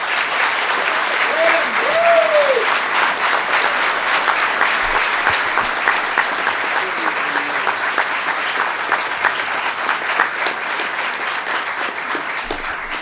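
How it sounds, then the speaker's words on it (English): Sustained applause from a crowd at a Sacramento city council meeting, dense and steady for the whole stretch and easing slightly toward the end, with a brief voice or whistle-like tone early on. "I think we need to give her a huge round of applause for the support that she's done"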